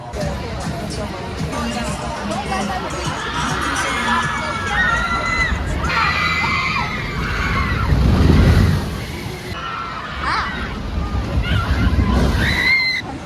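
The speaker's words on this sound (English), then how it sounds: "We're gonna get on the water ride because it's so hot." A water ride at Dorney Park amusement park sloshes and splashes through a hot day while riders shout, cheer and talk, with a louder surge of rushing water partway through.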